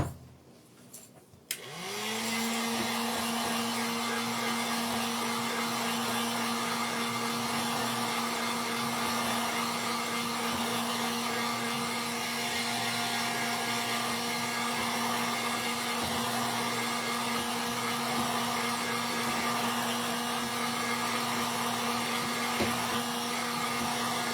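Hair dryer drying paint on a handmade Christmas plaque with a textured section, switching on after a short quiet moment and then running as a steady, loud, continuous whir with a constant tone.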